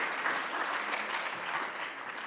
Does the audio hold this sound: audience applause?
yes